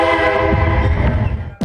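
A train horn blares loud and close as a locomotive passes a railway crossing in Brazil, a sustained harmonic blast that cuts off abruptly near the end.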